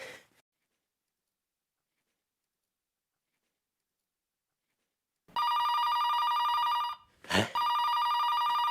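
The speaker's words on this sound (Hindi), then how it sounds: "लगता है जरूर भाभी जी का फोन होगा।" A landline telephone rings with a steady, bright electronic trill after a long silence, broken by one short pause and a louder burst before ringing resumes; no one talks over it.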